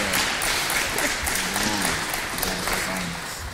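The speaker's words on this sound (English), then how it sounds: "Let's give the boys a round of applause." A room of people applauds basketball signees at a men's basketball signing day event, a steady dense wash of clapping that holds for the whole stretch with a faint voice now and then.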